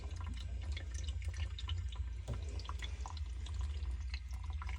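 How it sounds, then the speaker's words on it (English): Water drips and trickles into a well water filter housing as it fills, giving a steady soft patter of drops over a low hum, close and fairly quiet. "As it's dripping in there, we'll get a closer shot."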